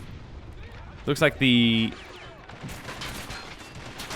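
Booming explosions and gunfire ring out during a street battle in Moscow in a war video game, one sharp blast followed by a sustained roar, with a voice talking over the low rumble.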